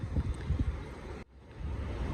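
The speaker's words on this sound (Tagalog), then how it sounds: "Ang sarap ng hangin." Gentle wind blows past a 7th-floor view after rain, a soft steady whooshing rumble that briefly drops out and then returns, with no talk.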